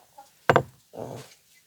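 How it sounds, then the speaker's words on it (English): A chicken lets out a sharp, close cluck, then a softer drawn-out cluck after a short pause, with a faint squawk just before. "Chickens! You guys are being so rude right now."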